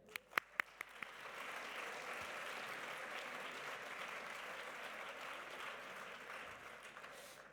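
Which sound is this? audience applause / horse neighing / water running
audience applause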